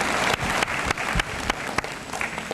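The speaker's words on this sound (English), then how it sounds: "let's give her a nice round of applause" At a high school honors assembly, the audience gives a short round of applause: scattered, fairly close hand claps with a few sharper individual claps standing out, fading slightly toward the end.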